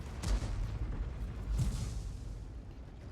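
Tank cannon shots striking an EBR 105 in a video game, two dull low booms about a second apart over steady engine rumble, fairly quiet and muffled, with no voices.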